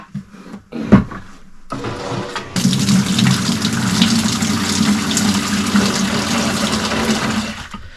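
Water gushing and splashing steadily from a boat's bilge area while a bilge pump is being repaired, a brief knock first, then a continuous close, loud pouring flow that lasts several seconds before tapering off.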